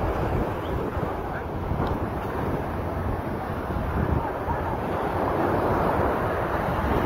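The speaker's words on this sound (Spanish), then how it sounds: "Las olas del mar." Sea waves wash onto the shore in a steady, loud roar of surf, heavily mixed with buffeting wind noise on the microphone throughout.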